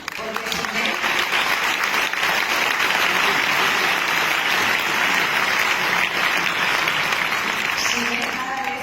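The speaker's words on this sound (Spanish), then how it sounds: "le damos un aplauso al doctor Jimmy Goodman" Sustained, dense applause from an audience at a masterclass for Dr. Jimmy Goodman, loud and even throughout roughly nine seconds with no pause.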